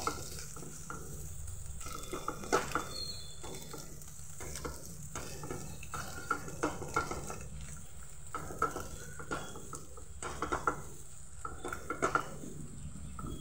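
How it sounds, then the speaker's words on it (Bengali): A bread mixture frying with onions in a pan, steady close sizzle under repeated scraping and stirring strokes of a utensil against the pan, continuing evenly throughout without talk. "এটাকে ভালোভাবে পেঁয়াজটার সঙ্গে একটু ভাজা ভাজা করে নেব"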